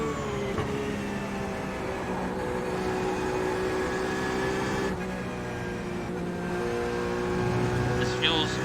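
LMP2 prototype race car engine in an IMSA Le Mans racing game, a steady droning hum with layered engine tones holding nearly constant throughout, loud and continuous with no voices over it.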